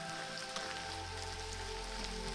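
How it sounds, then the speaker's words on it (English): Light rain falls steadily in the North Cascades of Washington, a soft, even hiss of drops on surfaces with no voices. "So rain, you know, they call it dry rain here in Washington"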